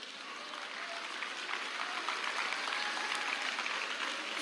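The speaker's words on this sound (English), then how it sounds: "Let us give a big hand clap for our PET, Mr. Naresh," A school audience at a senior secondary day event gives sustained, steady applause that builds slightly and carries on with no talk over it.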